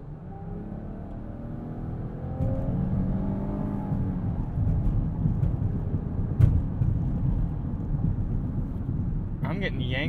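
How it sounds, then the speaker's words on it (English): A 2020 Chrysler Pacifica Limited minivan is pushed hard through a highway off-ramp, its engine and road noise rising into a steady, fairly loud drone with wind rush, while someone talks over it. "Now I'm going to really hustle it on this off-ramp here."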